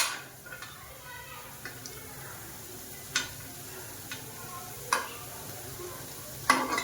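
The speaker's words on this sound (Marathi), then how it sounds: "याला सारखं उलट पलटी करायचंय. अगदी खरपूस तयार होतात हे वडे." Dahi vada in a pan of hot oil give a quiet, steady sizzle while they are turned over and over to crisp, with soft clinks and scrapes from a utensil now and then.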